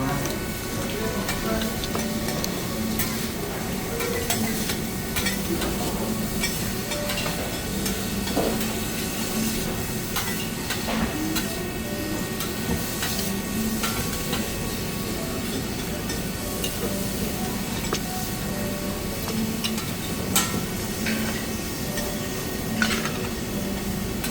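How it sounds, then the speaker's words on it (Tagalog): Banana flambé sizzling and frying on a teppanyaki grill, with steady sizzle, stirring and scraping through the whole stretch, busy restaurant noise behind and faint voices in the background. "Yung banana flambe, yun yung niluluto."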